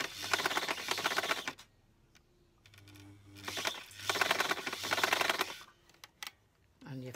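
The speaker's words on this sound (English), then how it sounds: "Start to sew, stitch it, back stitch, back stitch" Sewing machine stitching forward and then back-stitching, heard as two loud bursts of rapid mechanical whirring separated by a quieter pause, with soft clicks near the end.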